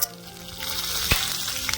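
Tempering seeds, a dried red chilli, peeled garlic cloves and curry leaves fry in hot oil for a chutney, a close, steady sizzle with sharp crackles and one loud pop.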